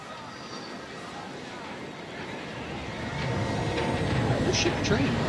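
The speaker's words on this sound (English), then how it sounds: "Oh shit, the train." A train rumbles past in the video game Ghost Recon Breakpoint, a broad low roar that swells louder in the second half, with voices talking over it.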